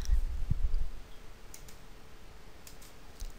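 Keys are pressed on a handheld calculator while a normal distribution value is entered, a few soft clicks and ticks up close over a faint background hiss.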